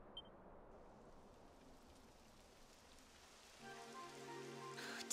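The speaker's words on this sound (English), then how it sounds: "It would have to go and start raining, wouldn't it?" Rain begins to fall in the video game Dragon Quest XI, a soft, continuous patter on surfaces joined near the end by a faint musical chime.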